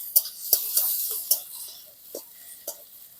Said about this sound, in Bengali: দিয়ে দেবো রসুন বাটা রসুনের কাঁচা গন্ধটা জবাব অব্দি একটু ভাজি করে নেবো